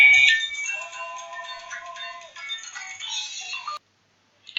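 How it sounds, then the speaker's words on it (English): A cell phone rings with a bright, trilling electronic tone that holds steadily for several seconds, then cuts off into silence before a brief faint sound at the end. "Sorry, my phone's ringing."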